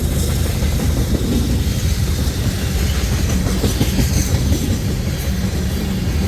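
A heavy freight train with a mid-train locomotive climbs past up close at Bailey Yard, its low engine drone steady beneath a continuous rhythmic clatter of wheels over rail joints.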